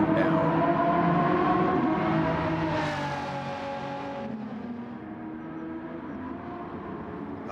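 A racing car engine in a sim racing game drones with a steady, loud whine, its pitch sliding up and then easing back down as the car shifts and settles.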